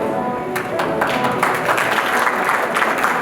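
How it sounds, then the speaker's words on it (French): An audience applauds the official photographer at the Miss Mauritius 50th event, a dense, fairly loud clatter of many hands that builds after a quieter start and stays steady throughout. "Je demande de l'applaudir."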